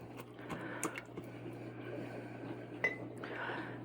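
A spoon scrapes and clinks against a pot while home-canned Zuppa Toscana soup is stirred, giving a few scattered light metallic taps over a quiet, low background hum.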